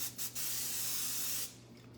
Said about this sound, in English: So I'm going to start by spraying this.